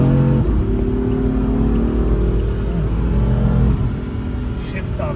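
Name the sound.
BMW M4 accelerating in fourth gear, M1 mode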